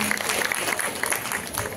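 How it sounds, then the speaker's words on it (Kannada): A crowd at a women's folk dance competition claps in a dense, continuous patter that holds steady and close for the whole short span. "ಚಪ್ಪಾಳೆ ತಟ್ಟುವುದರ ಮೂಲಕ ಅವರಿಗೆ"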